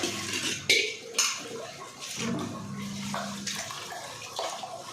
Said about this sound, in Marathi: 3 पाण्याने धुवूनच घ्यायचे हे स्वच्छ